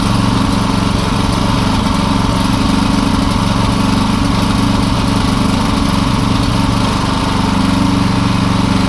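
Champion CPG4000DHY-DF-EU dual-fuel 3.6 kW inverter generator running steadily right after starting, with a loud, even, close engine drone that holds throughout and no speech.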